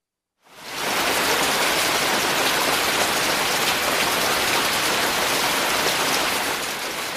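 Steady, dense rain from an Ecotones ASM1002 sound machine, a close, even wash of falling drops that starts abruptly after a brief silence and holds at constant loudness with no voices.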